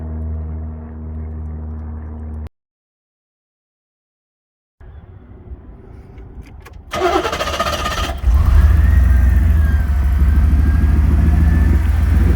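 After a pause, a starter cranks and the 5.7 V8 of a 1988 Chevrolet Camaro IROC-Z with a Flowmaster muffler fires up, settling into a loud, steady, deep rumbling idle close by.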